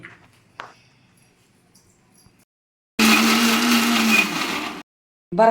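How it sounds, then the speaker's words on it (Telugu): A mixer grinder coarsely grinding brinjal (eggplant) chutney ingredients, a loud close whirring roar for about two seconds that stops abruptly, then starts again briefly after a pause, with faint handling noises before. "గ్రైండ్ చేసుకుందాం ఒకసారి ఇవన్నీ"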